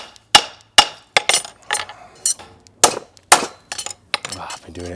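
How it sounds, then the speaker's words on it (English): A hammer rings on a steel horseshoe held against a heel while a farrier pulls up the toe clip, making a series of sharp, loud metallic strikes in an uneven rhythm, about a dozen blows close up. "pull my clip up with a heel and hammer"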